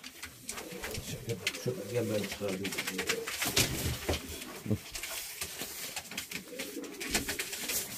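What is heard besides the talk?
pigeons cooing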